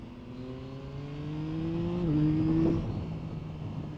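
A Yamaha MT-09 Y-AMT motorcycle with a semi-automatic gearbox is ridden, its engine note rising steadily, then stepping at a gear change and swelling again, heard from on the bike under wind rush.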